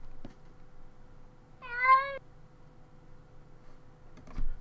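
A single cat meow in the video game Minecraft, clear and close, set between soft computer keyboard clicks and a sharper click near the end.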